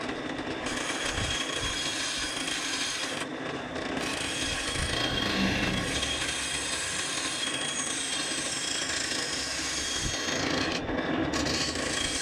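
Steady back-and-forth rasping of a saw cutting a slit into a wooden axe handle, close and continuous with a few brief pauses between strokes.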